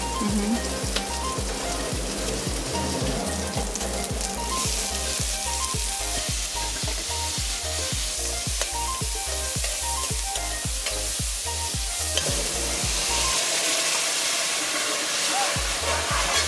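Fish stew ingredients saute in a pan, a continuous loud frying sizzle with occasional stirring clatter, under a steady low rhythmic thumping.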